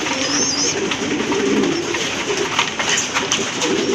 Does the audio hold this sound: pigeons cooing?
yes